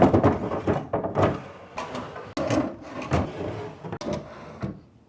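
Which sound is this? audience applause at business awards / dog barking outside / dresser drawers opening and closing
dresser drawers opening and closing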